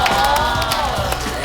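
Studio crowd cheering and clapping together in a sustained burst, with whoops and shouts rising over the applause, fairly loud and close throughout.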